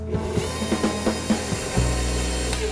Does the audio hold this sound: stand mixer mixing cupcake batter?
yes